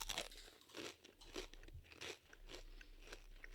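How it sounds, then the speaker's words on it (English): Takis rolled corn chips crunch up close in a run of sharp, brittle bites and chewing, several crackly bursts spread over a few seconds with no talk. "Now these should have a really satisfying layered crunch."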